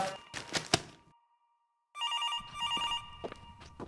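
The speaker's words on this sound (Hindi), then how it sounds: "क्यों भैया, आपका फोन आया है।" A telephone bell rings in short electronic bursts, two clear trills after a silent gap, loud and close in a home setting; brief clatter and household noise come before it.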